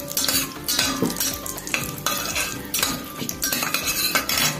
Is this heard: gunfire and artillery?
no